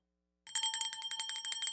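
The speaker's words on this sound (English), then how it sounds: "I feel like ringing this bell." A small bell rings rapidly and continuously after a brief silence, a bright metallic trill with no voices.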